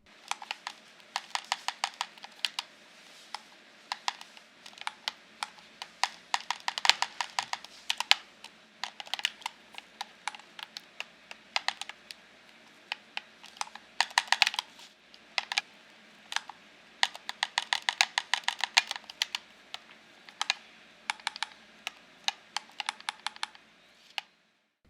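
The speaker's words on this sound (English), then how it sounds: "just enjoy this brief audio clip of the clackiness of this thing" Buttons and back paddles of an Xbox Elite Series 2 wireless controller clack in quick, irregular bursts of sharp plastic clicks, close and fairly loud, steady throughout with no voices.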